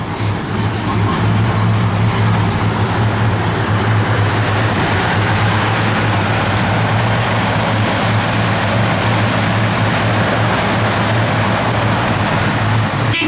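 A 1968 Plymouth Road Runner engine idling steadily, a loud, constant low rumble with a droning tone, heard close up for the whole stretch.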